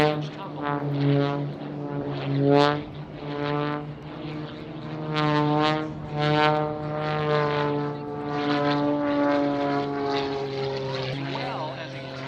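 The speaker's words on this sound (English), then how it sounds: "He flies the aircraft up and over once again." An aerobatic airplane tumbling and looping over an air show, its propeller engine droning steadily with a swelling and fading pitch as it maneuvers, while an announcer talks over it.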